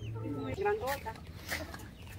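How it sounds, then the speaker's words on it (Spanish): Large Indian-breed hen clucking up close at a house with many animals, a few short throaty clucks mixed with nearby human voices speaking. "Miren, qué belleza de gallina."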